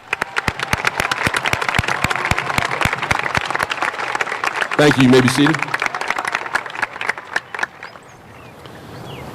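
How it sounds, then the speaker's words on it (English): Graduation ceremony audience applauding in a crowded hall, sustained dense clapping that thins out toward the end as a voice speaks over it. "please join me in giving them a round of applause"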